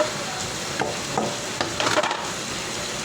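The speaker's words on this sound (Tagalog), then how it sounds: "Next natin ilalagay yung ating sobrang sangkap. Kamatis, luya at bawang." Tomato, ginger and garlic hit a hot frying pan already holding pechay greens, producing a steady sizzle with a few sharp clatters and stirring knocks, close and fairly loud, without speech.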